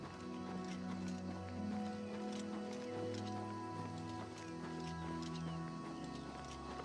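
Horse hooves clip-clopping at a steady gallop in Oblivion Remastered, a continuous rhythmic patter of hoofbeats under game music, moderately loud and close throughout.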